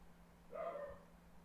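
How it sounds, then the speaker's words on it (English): A dog running around indoors lets out a single short bark or yip, faint and distant against a quiet room hum, with no speech. "There's Sneakers running around, barking"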